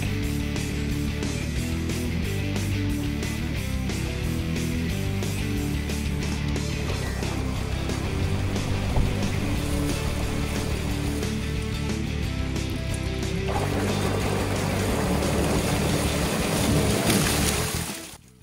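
Electric motor driving a hydrofoil propeller on a thrust test rig, a steady loud whirring drone that holds for about seventeen seconds, then cuts off abruptly.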